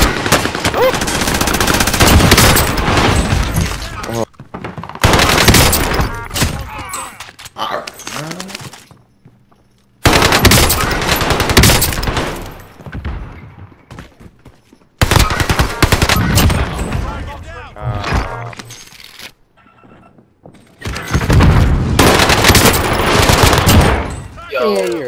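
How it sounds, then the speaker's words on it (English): Bursts of automatic gunfire and sharp sniper shots from a multiplayer shooter video game, loud and repeated in clusters with short gaps, while several players talk excitedly over the shooting. "I'm getting sniped from the top."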